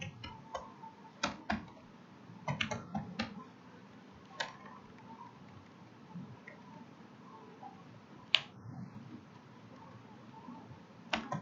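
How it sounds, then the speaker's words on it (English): Scattered clicks of laptop keys being typed, irregular and fairly soft, with quiet gaps between bursts and no talking. "I'm typing so fast"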